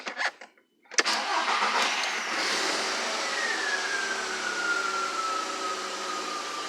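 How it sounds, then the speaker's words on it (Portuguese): A Volkswagen Golf, just repaired with a replaced fuel pump part, cranks with a short starter whir, then catches and settles into a steady idle, close and fairly loud with no talk. "Agora vamos dar a partida."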